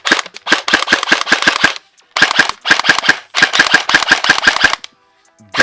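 Emerbu PDX gel blaster firing in full auto, three rapid bursts of sharp, close clicking shots separated by short pauses, loud, with no talking.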